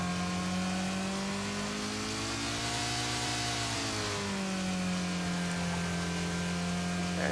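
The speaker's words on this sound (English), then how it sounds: "There's a ghost car up ahead." Ghost car engine in the VirZOOM virtual reality game: a steady mid-pitched motor drone with a sustained hum that rises slightly and settles, continuous and fairly loud with no talking.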